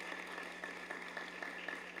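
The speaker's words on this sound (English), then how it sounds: "Can we give a round of applause to our JROTC?" A school audience at a Teacher of the Year celebration gives the JROTC a steady round of applause, dense clapping heard from a distance in a large hall.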